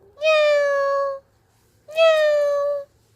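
Two clear, drawn-out cat meows, loud and close. A short pause separates them, and there is little else in the background.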